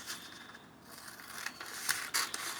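Scissors snip through junk journal paper in a few close, quiet cuts, with soft rustling and scraping of the sheet between strokes.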